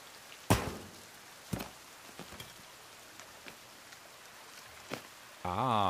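Rain patters in The Forest video game, a low steady wash broken by several louder thuds and knocks, with a burst of buzzing, wavering tone at the very end.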